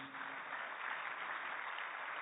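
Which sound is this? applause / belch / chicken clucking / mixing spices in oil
applause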